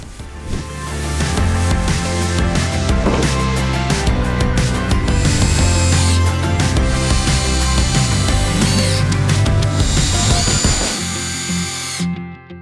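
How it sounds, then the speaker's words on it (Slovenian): A power drill drives screws into a wooden pallet from below, a loud close whirring in repeated bursts with short pauses, ending abruptly. "Zdaj se vse skupaj od spodaj pritrdi z vijaki."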